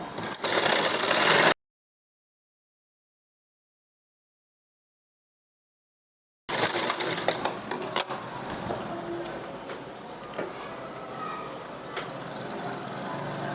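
Domestic sewing machine stitching tucks into a blouse runs in a short burst, falls silent for several seconds, then resumes with a steady rattling whir and faint ticks.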